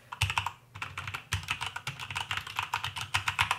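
Close-up typing on a Royal Kludge RK61 mechanical keyboard with red switches gives a rapid, uneven stream of soft clacks and thocks, with brief pauses between bursts. No voices are heard.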